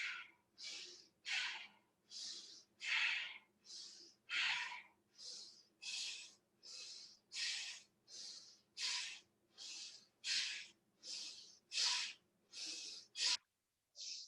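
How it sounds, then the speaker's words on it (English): Steady, rhythmic yoga breathing, close and alone: about sixteen even breath strokes with a slight hiss, each roughly a second long, repeating without a break until a final short pause. "So it's an actual focused, intentional breath."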